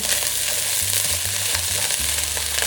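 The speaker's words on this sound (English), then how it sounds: "so now we'll just start stirring this through" Egg is stirred through spam fried rice in a frying pan, with a loud, steady sizzle close up. Low rhythmic scraping strokes of the spatula come in bursts over a few seconds.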